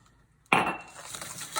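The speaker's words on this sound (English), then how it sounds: "I'm going to slowly add the sugar to the yolks while I mix it." Sugar being added to egg yolks in a bowl while mixing for pastry cream, a sudden clatter of utensil against the bowl followed by a steady scraping, clinking mix, close and fairly quiet with no talk.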